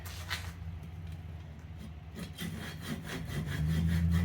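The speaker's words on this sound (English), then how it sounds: "that's where we're going to saw this first one off" A hand saw cuts a piece of wood for a kaleidoscope, its close, rhythmic back-and-forth strokes scraping steadily and growing slightly louder toward the end.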